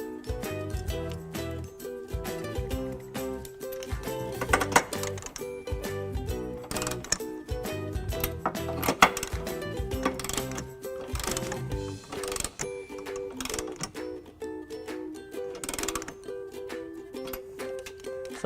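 An 11/16 socket wrench tightens the U-bolt nuts on a trailer hitch under a 2013 Honda Accord, giving bursts of rapid ratcheting clicks with brief pauses over a steady tonal hum.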